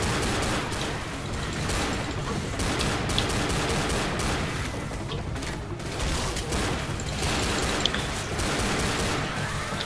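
Dense, continuous gunfire from Left 4 Dead, rapid overlapping shots and mechanical clatter during a zombie horde fight, loud and sustained with no pauses.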